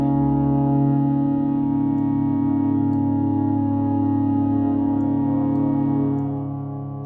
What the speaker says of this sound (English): And you've got some reverb here.